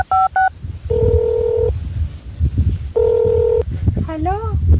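Touch-tone keypad dialing on a telephone: a few quick beeps, then two long steady dual-tone presses, then a warbling ring signal, all heard close with a voice talking underneath.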